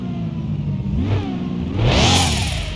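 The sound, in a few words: 1998 Toyota Supra engine revving, from video game Car Mechanic Simulator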